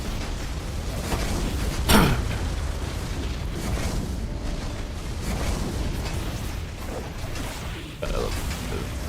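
A sharp booming blast stands out near the two-second mark in the video game Tainted Grail, with other muffled bursts and rumbling game noise running throughout, under a dense, busy mix.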